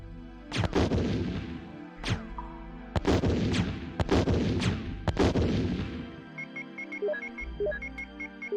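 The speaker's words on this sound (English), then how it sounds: "So we have to fire the grenade launcher ammo to get rid of it." A grenade launcher fires in the 1996 Resident Evil game, with about five heavy booming shots spaced roughly a second apart, each ringing out loud, followed by a short string of electronic beeping tones.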